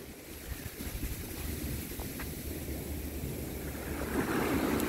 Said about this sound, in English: This is just regular ocean.